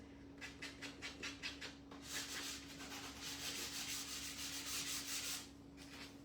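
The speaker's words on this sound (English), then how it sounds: "I'll just sand these a little bit." Hand sanding small wooden pieces for a patriotic street sign craft, a quick series of short rhythmic rubbing strokes followed by a longer steady scrub, close and fairly quiet, no talking.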